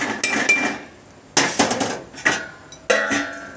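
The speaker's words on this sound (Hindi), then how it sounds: "अब इसको मैं थोड़ी देर के लिए ढक दूँगी" A metal lid set onto a pot of cooked tahri rice in a home kitchen, a few sharp clanks and rattles as it settles, close and loud with no talking.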